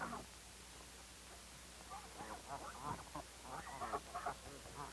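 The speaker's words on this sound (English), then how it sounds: "wild ducks paddle about, enjoying life as only God's creatures can" Faint quacking and chattering of ducks over a steady background hiss, several calls overlapping at a distance.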